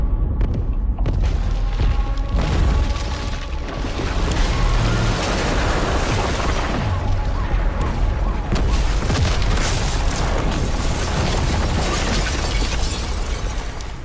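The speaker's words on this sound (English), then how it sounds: "Got reports of multiple explosions in Verdansk." Explosions and battlefield chaos in Call of Duty: Black Ops Cold War, a dense, continuous roar of booms and crashing debris sustained at high level throughout, with faint voices in the background.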